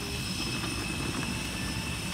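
Aircraft engines drone steadily while passengers board a plane in Tonga, a constant loud broadband roar with no breaks and no voices.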